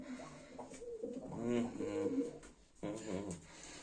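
Baku fighting pigeons, a black hen and males, coo softly in a loft with low rolling calls repeating over a few seconds, while people talk nearby.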